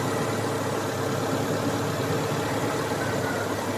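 Daihatsu Taruna engine idling steadily after a carburetor adjustment, a constant low rumble with even vibration throughout and no voices.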